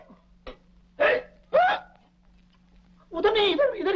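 Three sharp hiccups break a quiet scene in the Hindi film Asli Naqli, each a short, abrupt gulp of breath, before a voice starts talking.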